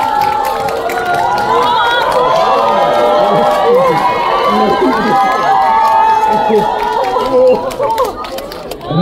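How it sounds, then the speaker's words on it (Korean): A cinema audience at a stage greeting in a CGV Yeongdeungpo auditorium claps and cheers together, a dense crowd roar with chatter and shouts throughout, loud and sustained. "수고하신 박수!"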